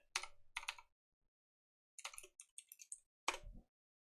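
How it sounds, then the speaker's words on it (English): Keystrokes on a computer keyboard come in short, quiet bursts of clicks separated by pauses, close and faint. "I'll start this over again so you guys can actually see what I'm typing."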